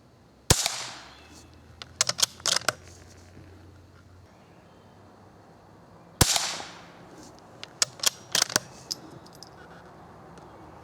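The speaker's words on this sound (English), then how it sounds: "I'm just going to shoot 3 shots at each target." Two sharp, fairly quiet .22 rifle reports from CCI Quiet-.22 segmented hollow point ammunition, several seconds apart, each followed by faint clicks and handling of the rifle.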